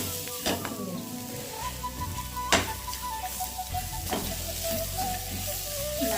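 Mushrooms sautéing in a hot pan give a steady sizzle and fry hiss, with stirring scrapes and a few sharp clacks of a utensil against the pan, close and continuous with no talking.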